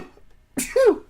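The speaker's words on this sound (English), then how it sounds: "I usually do like 10 sneezes, but I just cut it off at 4 there." A single sneeze, a sharp burst with a voiced tail, close and fairly loud after a brief quiet.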